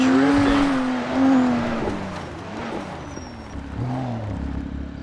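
A BMW drifting in the FiveM driving game, its engine droning loud and steady while the tires squeal in long, wavering tones, with no voice heard.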